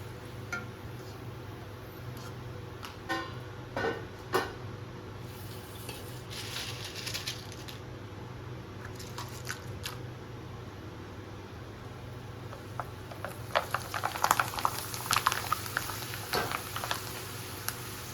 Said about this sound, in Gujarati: આવી રીતે આપણે વેફર બધી પહેલાં તળી લઈ